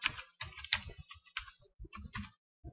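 Typing on a computer keyboard, a quick irregular run of close, crisp key clicks in short bursts with brief pauses between them.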